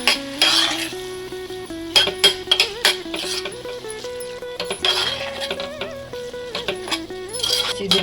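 Spinach going into a pan for a palak-onion gravy and being stirred, with a utensil scraping and clinking against the pan over a soft sizzle, while music plays underneath throughout.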